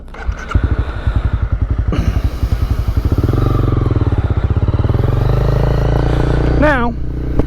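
A 2021 Honda CB300R motorcycle starting up close by: a rapid cranking chug settles into an even, pulsing single-cylinder idle that holds steady, loud and near, with a brief chirp near the end.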